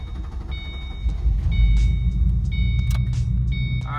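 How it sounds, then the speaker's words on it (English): A 2005–2009 Ford Mustang engine starts after an EGR valve replacement, a low steady rumble building up and holding with a slightly rough idle, alone and close by. "Now I'm gonna start the car, and hopefully everything should be working correctly here"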